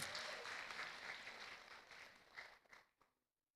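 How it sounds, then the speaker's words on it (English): At an international public lecture at Universitas Pasundan, an audience gives sustained applause after a souvenir presentation; it fades out near the end and leaves silence. "Okay, give applause, everyone"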